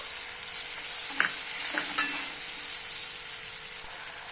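Masala paste fries in hot oil as a steady, hissing sizzle while a spoon scrapes and stirs through it a couple of times, close up with no voices.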